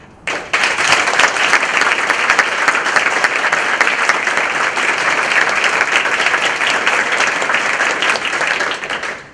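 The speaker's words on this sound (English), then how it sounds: "we have an opportunity to applaud these students for their hard work and dedication in the junior ROTC program" A school board meeting audience applauds JROTC cadets, dense, loud clapping starting abruptly and sustained evenly for several seconds before trailing off at the end.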